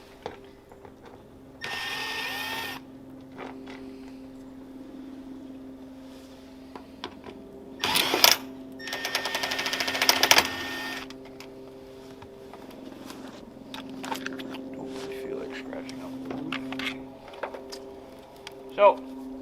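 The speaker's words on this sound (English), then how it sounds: "I'm just gonna use my drill, just make it quick and easy" Two short bursts of a power drill with a T20 Torx bit whirring near the start, removing long screws from a 2007–2013 Silverado/Sierra third brake light, then a longer double burst, with steady background hum and talking throughout.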